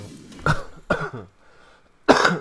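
Three sharp coughs ring out close by, the first two quick and rough, then a pause before a final louder cough.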